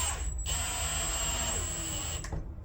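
A power screwdriver drives a fixing screw into a Lamello Clamex S-20 connector in a butt and mitre joint, a steady close whine running throughout with a brief dip and restart near the start and another near the end.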